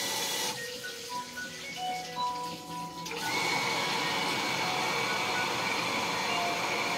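An automatic self-priming water booster pump runs dry with its water input shut off, giving a steady whining motor hum with tonal lines that shifts after a few seconds into a louder, rougher continuous drone.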